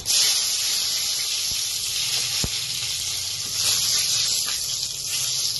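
Cinnamon, cloves and bay leaf drop into hot oil in a pan while a biryani is being cooked, producing a loud, continuous close-up sizzle and hiss with a few faint knocks.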